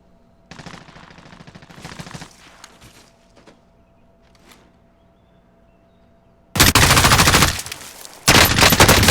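Gunfire during a gunfight in the Warzone video game: scattered quieter shots and footsteps at first, then loud sustained bursts of rapid automatic fire close by near the end.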